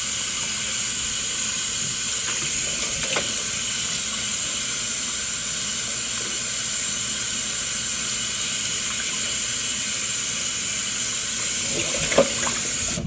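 Tap water runs steadily into a kitchen sink while potatoes are washed for steak frites. A constant close rushing hiss is broken by a brief clatter near the end.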